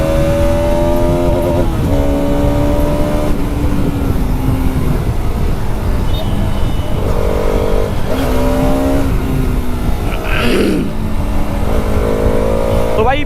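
A 2024 Bajaj Pulsar RS200 motorcycle engine revs up through the gears while riding, rising and falling in pitch with each shift, loud and steady against wind noise throughout.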